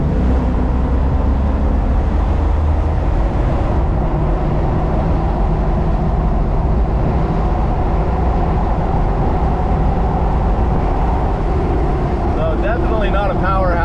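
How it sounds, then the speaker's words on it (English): A Jeep Wrangler TJ on stock suspension with 35 inch tires, floored up a steep hill, gives a loud, steady engine drone and road rumble throughout, with someone talking over it. "I'm gonna floor it going up this steep hill"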